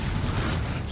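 A Confringo blasting curse explodes in Hogwarts Legacy, a single short, dense, roaring burst of noise, fairly loud and alone.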